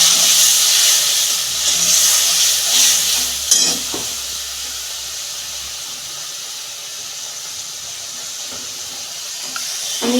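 Tomato and a ginger, cumin and green chilli paste fry in a pan with a loud, continuous sizzle and hiss, stirred throughout.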